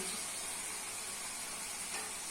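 Spice masala being sautéed in a pan for a potato, eggplant, pointed gourd and dried shrimp curry, giving a steady close hissing sizzle without pause.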